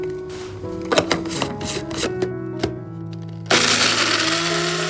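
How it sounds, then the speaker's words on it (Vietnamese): Electric food grinder chopping soaked dried shrimp for spring roll filling, a whirring motor with rattling clatter that jumps to a louder, steady roar partway through. "Tôm khô sau khi ngâm mềm thì các bạn có thể băm nhỏ hoặc cho vào máy xay như mình cũng được"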